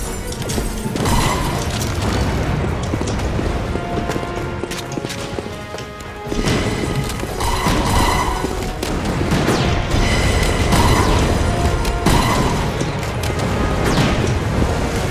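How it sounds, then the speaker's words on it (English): Mortar explosions in a video game, heard as repeated heavy booms and crashes in a dense, loud, continuous battle din, near and rolling in waves through the whole stretch. "those mortars are crazy over here"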